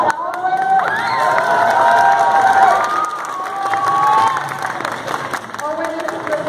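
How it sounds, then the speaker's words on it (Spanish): A lively crowd claps and cheers for a child contestant at a cosplay contest, loud and close, with shouts and high children's voices riding over the applause, a host's amplified voice briefly audible beneath it. "Aplausos para Owen."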